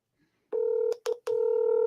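Telephone keypad dialing tones sound as a series of touch-tone beeps: a long tone, two short ones, then another long tone, loud and close with no voices.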